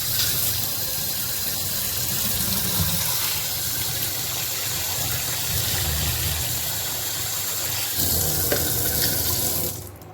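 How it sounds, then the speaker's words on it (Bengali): Water runs steadily from a tap over frozen fish in a sink, a continuous broad rushing splash that holds at a near-constant level for about ten seconds before dropping away at the end. "মাছটা পুরো জমে গেছে, একটু জল দিই।"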